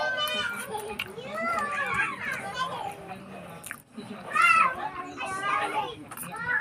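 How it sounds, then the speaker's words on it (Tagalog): Noisy children playing at a birthday celebration, many young voices shouting and squealing over each other in a continuous lively din, with nearby chewing sounds. "Ang ingay na ng mga bata."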